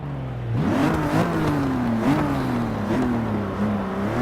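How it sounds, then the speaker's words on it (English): Up close, a rear-wheel drive car's engine revs repeatedly in rising and falling pulls, with a rattling exhaust adding a coarse buzz under a loud, steady drone. "I just love the rattle of that exhaust."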